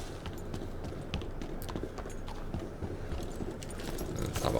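Horse hooves clip-clop at a steady gait through a snowy town in Red Dead Online, rhythmic thuds running continuously at moderate loudness over ambient game sound, with no talking.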